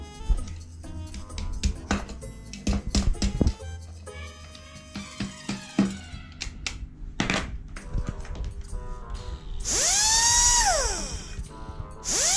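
A busy run of clicking, ratcheting and whirring from a small toy drill and screwdriver, with rising electronic whines near the end, close and loud.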